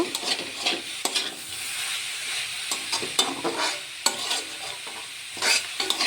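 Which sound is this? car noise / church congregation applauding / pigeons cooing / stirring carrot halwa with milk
stirring carrot halwa with milk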